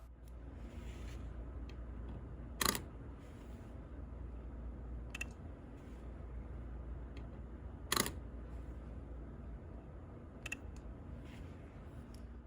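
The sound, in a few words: Leica Q2 camera shutter release clicking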